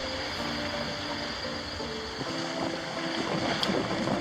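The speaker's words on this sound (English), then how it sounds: "The ocean is very calm and we are running in the wind." A sailboat reefed main and partial jib running downwind at night on a calm ocean off the Sandy Hook, New Jersey coast, with a steady rush of wind and water and a low hum throughout, faint creaks and splashes rising slightly later on.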